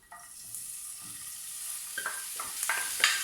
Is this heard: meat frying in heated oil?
yes